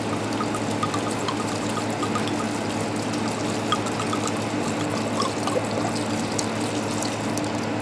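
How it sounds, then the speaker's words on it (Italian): Sagrantino passito wine is poured into a pan over cinnamon and nutmeg in a restaurant kitchen, a continuous close trickling and splashing of liquid that holds steady throughout without speech. "andiamo a versare il nostro sagrantino colsanto"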